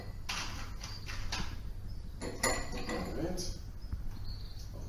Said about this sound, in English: we're going to also ice our glass